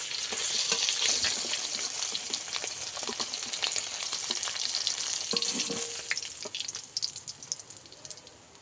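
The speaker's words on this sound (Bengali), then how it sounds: "মাছগুলোও ভেজে নেব" Pieces of kalbosh and rui fish, fresh from a pond, fry and sizzle in hot oil, a dense steady crackle with occasional stirring and spatula scrapes, loud and close, with no voices.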